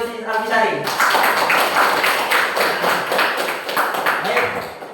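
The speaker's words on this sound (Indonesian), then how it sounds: "Tepuk tangan untuk Al-Bisari." A classroom of students claps for a classmate after a brief spoken line: dense, fairly loud, steady clapping that carries on for several seconds.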